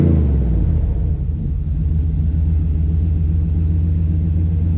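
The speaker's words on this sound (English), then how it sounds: "let's get an exhaust note" Exhaust of a 2019 Nissan Titan XD Pro-4X pickup truck idling, a loud, deep, steady rumble close by with no talking over it.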